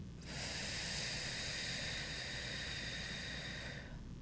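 A person breathes out in one long, steady, airy exhale that lasts about four seconds, close and fairly loud, with no talking.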